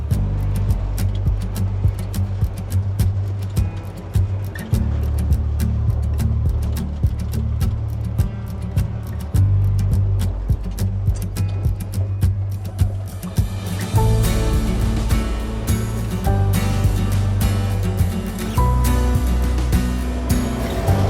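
A car drives along a small rural road, its steady engine and road rumble continuous and fairly loud throughout, with no talking.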